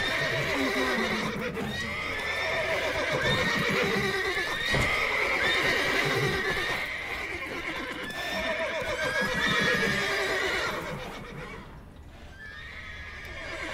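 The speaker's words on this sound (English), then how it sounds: "Gotta calm all the horses before they wake the guards." Several horses in The Witcher 3: Wild Hunt whinny and neigh repeatedly over a dense, busy background, with hooves clip-clopping throughout; the sound is loud and continuous, thinning out near the end.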